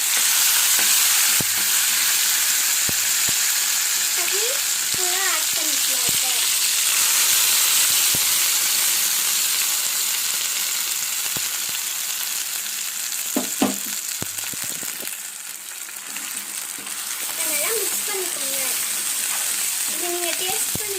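Chutney poured into hot oil with crispy fried garlic sizzles steadily and close, a constant frying hiss with occasional stirring clinks and scrapes, no talking over it.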